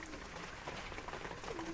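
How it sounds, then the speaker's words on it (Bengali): A female Kalshira pigeon coos softly in a brief, faint burst of low, murmuring notes over a quiet background. "এটা একটা কালশিরা ফিমেল, খুব সুন্দর, খুব ভালো ভালো রেজাল্টেড পায়রা"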